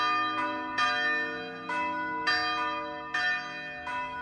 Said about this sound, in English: we are the only church that still rings its bells and that still has the bells